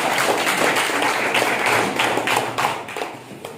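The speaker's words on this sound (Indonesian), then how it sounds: "Kita berikan tepuk tangan untuk kelompok" A classroom group of students and a teacher clapping for a presenting group, steady dense applause close by for a few seconds before thinning out at the end.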